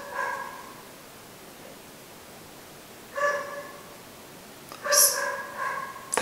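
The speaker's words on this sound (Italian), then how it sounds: "Facciamo finta che non ci sono i cani che abbaiano?" Dogs bark somewhere off in the distance behind an indoor makeup tutorial, three faint bursts of short barks separated by pauses, over a steady background hiss.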